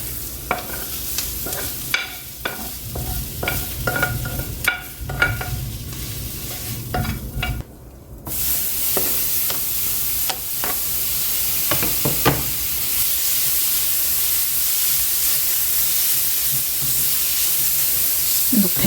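Bean sprouts stir-frying in a hot pan with pork chop bits and garlic, a steady loud sizzle and hiss with scraping stirs throughout, briefly dropping out near the middle before returning strong.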